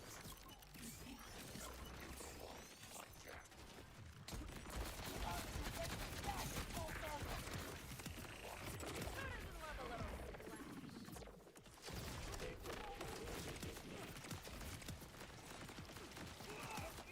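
Rapid automatic fire from the Lockjaw gun in Borderlands 4, dense crackling bursts with mechanical clatter that run almost nonstop, broken by a couple of brief pauses.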